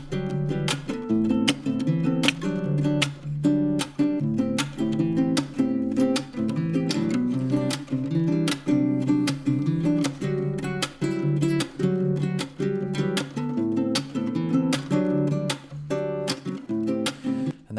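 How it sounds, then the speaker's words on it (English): Nylon-string acoustic guitar loop repeating a steady fingerpicked figure, with a crisp thumb slap on the bottom string marking each beat, continuous, close and unaccompanied. "It's got that little thumb slap on the bottom string."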